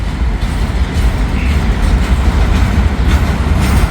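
A train passes on the tracks, a loud continuous low rumble with rattling, clattering wheel noise held steady throughout, close and without talk.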